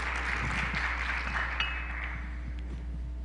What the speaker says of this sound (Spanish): pido un aplauso entonces para el ponente